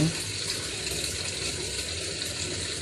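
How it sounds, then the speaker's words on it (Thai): With the tap opened to its lowest setting, water trickles and hisses into a Samsung WA85G5 washing machine, a steady, fairly quiet flow. "อันนี้ผมเปิดน้ำต่ำสุดเลยนะ น้ำเข้า"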